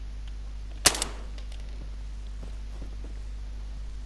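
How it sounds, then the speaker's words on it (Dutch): A single sharp gunshot from a first-person shooter game, a one-shot headshot, cracks out once near the start, followed by a brief softer echo, then quiet background hum. "Nee, ik heb hem in zijn hoofd geschoten"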